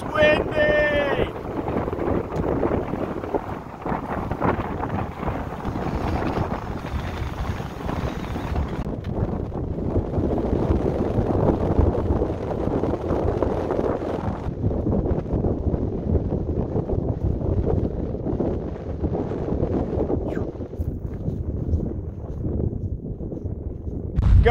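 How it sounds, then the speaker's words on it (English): Strong wind buffets the microphone on a mountain summit ridge on the Skyline Trail, in a continuous, roaring rumble that stays loud and unbroken throughout. "It's windy!"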